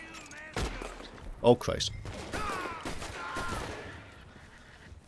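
Gunfire from the video game Red Dead Redemption 2: several sharp, loud shots burst out in a cluster near the middle, with a man exclaiming over the action.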